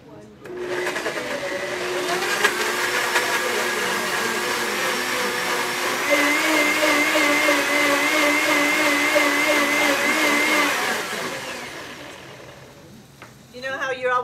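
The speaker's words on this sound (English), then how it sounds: "The nice thing about the blender is that you can just blend it all up and you'll never know what's there" A blender runs steadily for about twelve seconds, blending tomatoes for raw split pea soup, a loud whirring motor whine with a slight pitch shift partway through before it winds down near the end.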